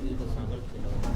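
A red check racing pigeon in a Quetta loft gives a short, low, throaty coo with voices talking alongside.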